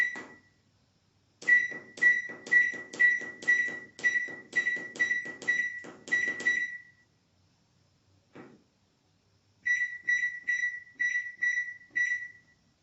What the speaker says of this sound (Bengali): আমি প্রথমে মাইক্রোওভেনকে কনভেকশন মোডে সিলেক্ট করব, তারপর এটাকে 5 মিনিট প্রিহিট করব।